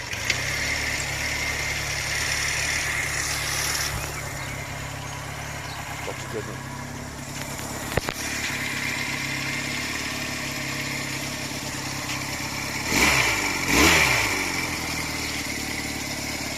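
Honda CD175 motorcycle engine idling steadily up close with a slightly high tick-over, then revving briefly twice near the end; a voice speaks over it.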